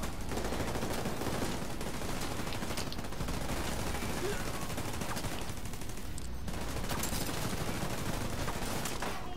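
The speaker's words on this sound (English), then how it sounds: "Oh, explosion," Dense, continuous gunfire and blasts fill a combat firefight in the Division 2 video game, Warlords of New York. Rapid shots overlap without pause and stay loud and busy throughout.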